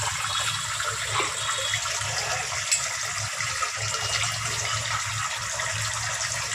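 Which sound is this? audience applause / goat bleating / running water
running water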